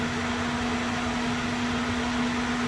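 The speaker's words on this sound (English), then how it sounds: "So that's our view of a Kohler 48 kilowatt generator" A Kohler 48 kW standby generator, model 48RCLB, runs with a steady, loud mechanical drone and a strong constant hum, unbroken and without talk throughout.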